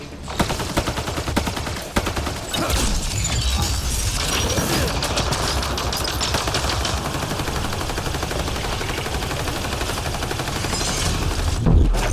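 Sustained automatic gunfire and heavy weapon bursts from combat in the science-fiction shooter Mass Effect Andromeda, loud and dense throughout with a few sharper blasts standing out.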